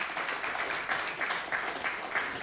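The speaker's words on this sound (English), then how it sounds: "ari Sankirtan Prabhu and Surya Kunda Prabhu, let's give them a big round of applause." Applause from a temple audience honoring its two treasurers, a brief, fairly faint patter of clapping that stays even across a couple of seconds.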